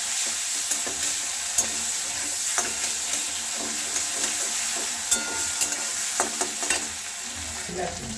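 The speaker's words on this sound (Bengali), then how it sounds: "এবার মাছের তেলটাকে ভালোভাবে নাড়িয়ে নেব।" Fish oil fries in a wok with black cumin, sizzling with a steady hiss while a spatula stirs, scraping sharply against the pan at irregular moments, close and alone without talk.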